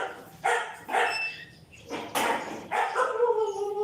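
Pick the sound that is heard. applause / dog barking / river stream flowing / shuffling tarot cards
dog barking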